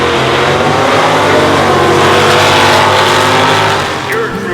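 Classic car and hot rod engines roar loudly and continuously, revving close by before easing off near the end.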